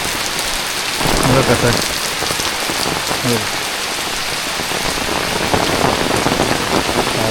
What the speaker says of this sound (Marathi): पावसाला जोर वाढला आहे बाई.